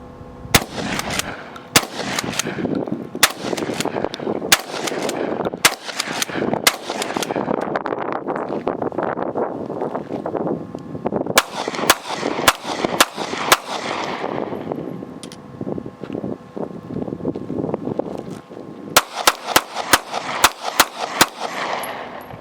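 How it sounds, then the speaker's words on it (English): A pump-action shotgun fires alongside a 7-round 9mm, with loud, sharp shots coming in clustered bursts and rapid strings across the whole stretch. Between reports there is a dense, rumbling wash of echo, and no one talks. "Pump action shotgun in a 7-round 9mm, and just keep filming."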